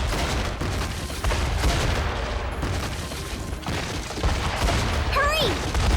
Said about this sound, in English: It's a cave-in.